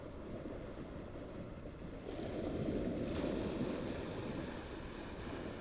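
Waves wash ashore on the coast, a low, steady rumble of surf that swells a little louder midway, with wind buffeting the microphone and no voices.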